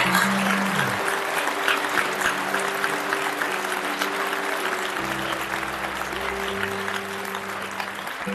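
A large audience at a gathering for young yogis applauds parents, a loud, steady wash of clapping that keeps going throughout, with a low sustained musical tone underneath.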